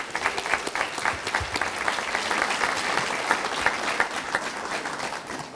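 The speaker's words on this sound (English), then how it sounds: "So can we all just give them one more round of applause" A full round of applause from an audience at an outdoor community announcement event, dense steady clapping holding for several seconds at moderate loudness before thinning slightly at the end.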